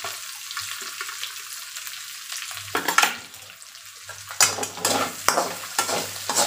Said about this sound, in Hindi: ये सारी डालेंगे, हमें ज़्यादा पकाना नहीं है प्याज वगैरह को, सिर्फ 2-2 मिनट तक ही चला लेना है।